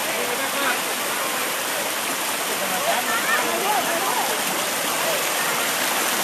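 Than Thong waterfall in Khiri Rat Nikhom, Surat Thani, pours in a constant broad rushing roar, close and steady, with faint voices mixed in.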